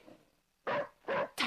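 Dogs in a film give three loud, close, drawn-out barks in a row, separated by brief pauses, after a faint low sound at the start.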